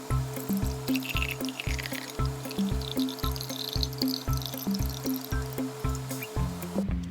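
Melted ghee pours through an ultrafine skimmer into a Ball glass jar: a steady, close liquid trickle and stream running for several seconds with a faint repeating rhythm and no voices.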